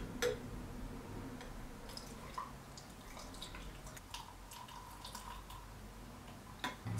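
A shaken whiskey cocktail with simple syrup and fruit puree is poured over a cup of ice, giving soft, close drips and trickles of liquid with small ticks of ice in a quiet room.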